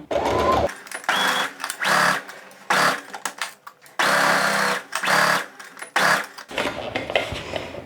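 A sewing machine stitches a cork tote bag in several short bursts with brief pauses between runs, close and fairly loud.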